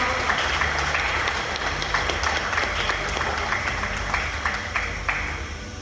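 An audience claps at a book presentation, steady applause filling the room at moderate volume from start to finish, with no voices over it.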